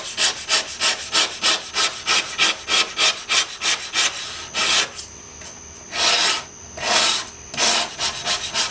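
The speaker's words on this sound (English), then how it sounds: "I had this old window scraper, and I'm going to try a new technique by scraping off whatever I can first," An old window scraper grinds rust off a metal etching plate in repeated rough strokes, quick and rhythmic at first, then slower and spaced out. The scraping is loud and close, with no voices over it.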